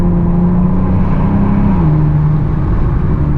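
Car engine with a Pedal Commander throttle controller revving in Sport Plus mode after a downshift to second gear, a loud, steady close drone whose pitch dips slightly partway through, with no talk.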